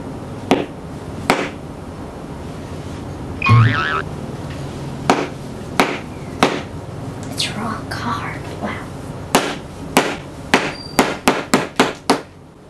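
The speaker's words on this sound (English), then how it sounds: "Jadi ini kayaknya coklatnya mesti dipaluin nih" Sharp hammer strikes on chocolate ring out repeatedly, scattered at first and then quickening into a rapid burst near the end, with a brief murmur of voices in between.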